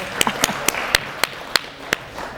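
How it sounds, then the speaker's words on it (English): Sparse audience clapping for the city of Los Gatos at a live conference session, about eight distinct claps in a loose, steady rhythm, fairly close and moderately loud. "a little applause for let's applaud Los Gatos"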